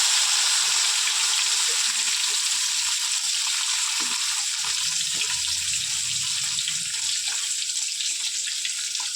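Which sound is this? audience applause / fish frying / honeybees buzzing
fish frying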